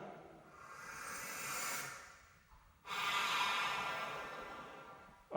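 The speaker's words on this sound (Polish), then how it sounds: "instrument traktowany jest jako aparat wzmacniający odgłosy wdechu i wydechu." Breathy inhales and exhales pushed through a wind instrument, two long airy rushes separated by a brief pause, soft and close.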